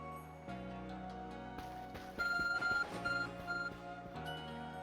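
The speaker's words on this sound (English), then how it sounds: "Our phone is beeping." The ARC phone in the video game Pokémon Legends: Arceus beeps in a series of short, bright repeated tones over soft background game music, fairly quiet overall.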